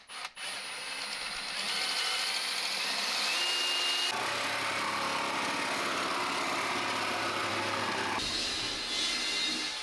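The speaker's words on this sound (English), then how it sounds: "Poor Ollie, he thought that he was being super clever, drilling a hole for the socket point." A power drill bores a hole through a wall for a socket point in a dressing room, running as a continuous whirring grind that shifts in pitch and load over several seconds, with no talking.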